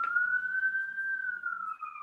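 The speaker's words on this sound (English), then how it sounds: "You hear our sirens?" A single wavering tone, like a siren or a person whistling, rises slightly and falls over about two seconds. It sounds clear and fairly close, with no other sound.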